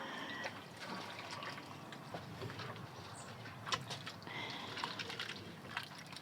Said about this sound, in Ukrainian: Ну, доведемо зараз холодною водою.